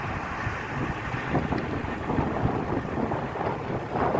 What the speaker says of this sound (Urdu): ہوا چل رہی ہے